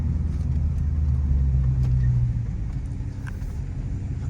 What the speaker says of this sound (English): And his exhaust sound good too.